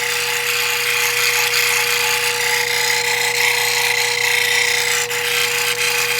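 A 1200 grit grinding wheel spins against a gemstone, giving a loud, steady motor whine with a fixed tonal hum and a continuous gritty hiss of stone on abrasive, close and unbroken with no talk.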